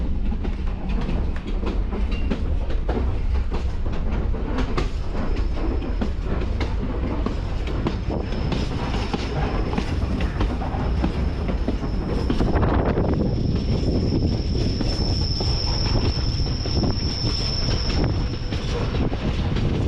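Passenger train running from Puno to Cusco in Peru, a steady loud rumble of wheels on rails with rhythmic clatter and a rising high-pitched wheel squeal near the end, no voices.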